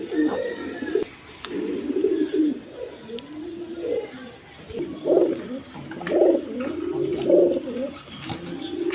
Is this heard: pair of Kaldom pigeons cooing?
yes